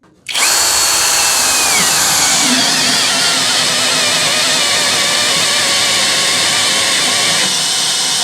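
A Hanabi LJ-2023 cordless drill driver rated at 140 N torque spins up sharply and runs alone at a loud, steady whirring pitch for about eight seconds.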